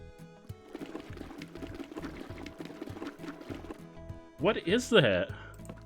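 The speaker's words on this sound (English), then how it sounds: "Why does it make a water sound?" A water sound plays from an object in the video game Unpacking, a short pouring, bubbling burst late in the clip after a stretch of game background, with a voice talking over the start.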